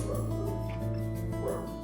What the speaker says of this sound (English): the dogs are freaking out